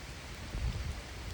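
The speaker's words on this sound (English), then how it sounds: "Guys, I'm in the rain." Steady rain storm falling outdoors, a dense continuous hiss of drops close by with a heavier low rumble of water on surfaces midway through, no voices.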